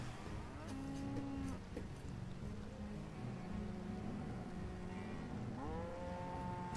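Cattle in the village-building game Banished low in several drawn-out moos, one near the start and another near the end, over a quiet, steady ambient game background.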